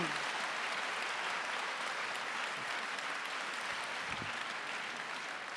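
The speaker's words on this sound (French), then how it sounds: "Un applaudissement, s'il vous plaît." Applause from an audience at an awards ceremony, a steady, fairly distant and quiet wash of clapping held evenly throughout.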